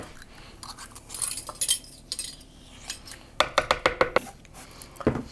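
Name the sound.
spoon scraping inside a container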